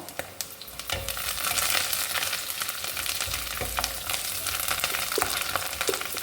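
Curry leaves sizzling in hot oil with ginger and garlic in a pan while cooking chicken gravy, a steady close crackling fry broken by scraping stirs, with no talking.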